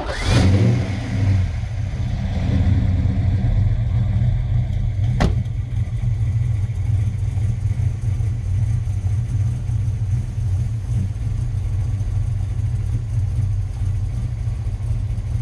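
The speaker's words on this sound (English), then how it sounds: "I'm going to start the car up" Slammed blue Foxbody coupe on air ride cranks and fires up, then settles into a steady, loud idle that rumbles on without a break, with one sharp click partway through.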